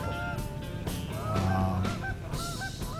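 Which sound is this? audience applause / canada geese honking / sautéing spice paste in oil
canada geese honking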